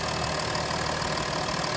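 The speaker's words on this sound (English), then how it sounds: "it definitely has that diesel idle, which is kind of cool" A Ford F-150 pickup with the 3.0 diesel engine idles steadily, a dense continuous rumble with a faint knocking clatter, constant in level and without talking.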